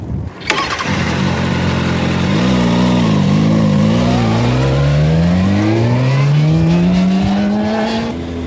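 A motorcycle is ridden in a countersteering demonstration. Its engine drones steadily and close, then climbs smoothly in pitch as it accelerates, holding a loud, continuous tone with no talking.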